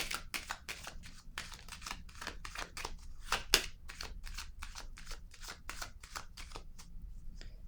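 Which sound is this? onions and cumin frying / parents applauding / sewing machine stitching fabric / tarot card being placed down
tarot card being placed down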